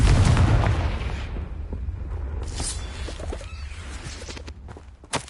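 A Confringo blasting spell cast in Hogwarts Legacy, a heavy explosive boom at the start that rumbles and decays into scattered crackles and debris thuds, loud and close, with no voices.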